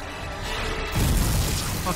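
An explosion in Dead Space Remake lands as a sudden deep boom about a second in and leaves a dense rumbling roar, loud and close, with game noise and voices mixed in.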